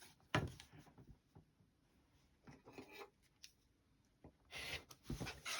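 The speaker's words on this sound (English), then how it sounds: "I'm going to trim off these little excess pieces on the edge here" Scissors snip excess fabric off the edge of a quilt block, heard as quiet, scattered cuts and rustles close by.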